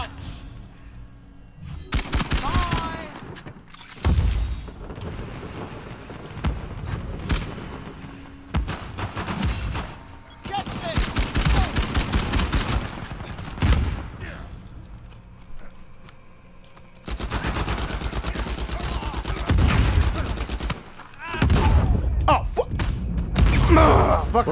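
Gunfire and heavy launcher blasts from a grenade launcher in the Uncharted 4 multiplayer game, coming in loud repeated bursts and booming volleys separated by brief lulls.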